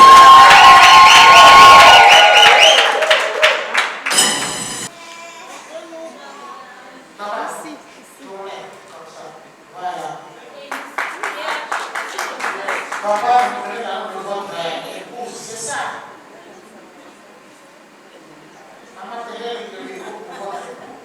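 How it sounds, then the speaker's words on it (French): Guests at a civil wedding ceremony burst into loud cheering and clapping, a brief intense crowd roar that cuts off, followed by scattered shouts, chatter and voices talking. "Applaudissez."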